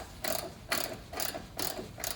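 A ratchet wrench clicks in short rhythmic bursts while tightening a headlight bolt on a Yamaha Banshee quad, four quick ratcheting strokes, close and fairly faint.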